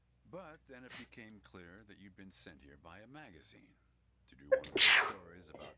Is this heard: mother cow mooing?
no